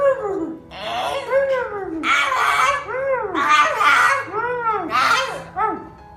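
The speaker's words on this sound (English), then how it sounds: "The dog seems to be saying that it has really missed him" A dog greeting its returning owner whimpers and whines in rising and falling cries, loud and close, in repeated bursts with barely a pause, while a person talks softly in the background.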